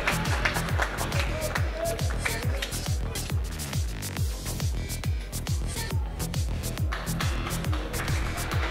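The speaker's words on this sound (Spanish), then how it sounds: "gracias por ese aplauso." Rhythmic clapping in a steady beat for a beauty pageant queen at a Colombian tourism festival, many hands together at an even tempo, with a busy room sound underneath.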